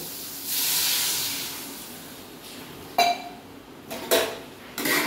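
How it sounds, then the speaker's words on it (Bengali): Water poured into a pan of lightly fried hog plums sets off a loud, swelling hiss that fades over a couple of seconds, followed by a few sharp clinks and scrapes of utensils against the pan. "এবার আমি এর মধ্যে জল দিয়ে দেব"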